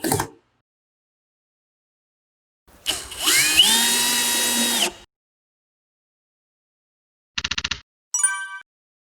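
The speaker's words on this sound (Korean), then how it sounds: "계양전기의 충전 드릴인 DD DM18BL-W" A Keyang DD/DM18BL-W 18V cordless drill whirs up and drives a screw into wood for about two seconds, followed later by short clicking ratchet bursts, close and clear with no talking.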